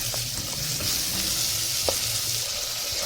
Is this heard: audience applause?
no